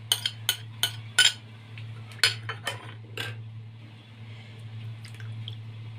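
Half a lemon squeezed by hand over grilled shakhoura fish fresh off the fire, topped with garlic and chili paste: a run of soft, wet squishes and drips, quiet and close, over a steady low hum.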